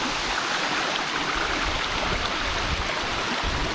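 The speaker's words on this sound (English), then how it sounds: "there's a path to go behind the waterfall" A waterfall on Madeira pours in a steady, dense roar of falling water, close and loud throughout with no voices over it.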